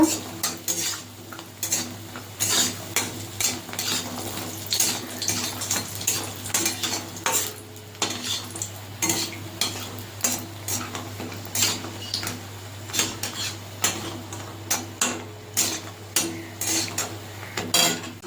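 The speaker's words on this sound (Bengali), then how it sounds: "এখানে ছয় সাতটা বড়ি আছে ভেজে নেব" Six or seven bori, sun-dried lentil dumplings, frying in mustard oil in a kadai, with repeated metal spatula clinks and scrapes against the pan over a soft, steady sizzle, close and rhythmic.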